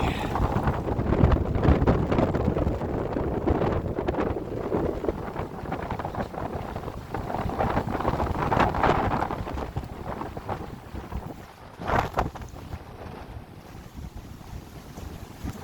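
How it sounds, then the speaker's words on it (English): Strong, gusty wind on a cold mountain trail roars and buffets the microphone continuously, with louder blasts rising and falling throughout and no talking. "It's cold and windy."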